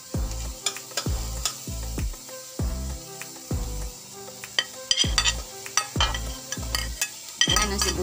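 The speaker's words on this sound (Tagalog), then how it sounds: "Okay, so isusunod ko na po ang sibuyas." Onion sautés in a pan with a gentle background sizzle, while a utensil stirs it in a regular series of knocks and scrapes against the pan, close and without talking.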